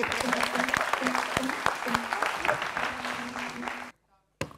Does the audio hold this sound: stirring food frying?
no